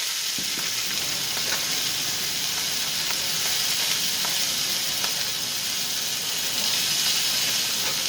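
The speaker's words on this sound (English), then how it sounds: "I flipped them a few times and I cut them in half just so they fry" Thick steaks sizzle and fry in a pan on a home stove, a steady, dense hiss that holds close and even throughout with faint crackles and no talking.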